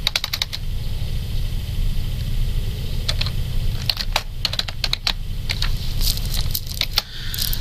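A computer keyboard is typed on in quick irregular bursts of close, crisp key clicks over a low steady hum, with short pauses between runs and no talk.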